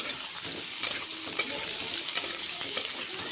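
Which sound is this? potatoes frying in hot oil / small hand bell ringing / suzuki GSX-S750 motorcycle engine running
potatoes frying in hot oil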